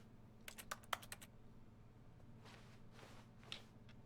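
A computer keyboard clicks in a quick burst of sharp keystrokes, then after a pause a few softer, scattered taps follow, faint over a low steady hum.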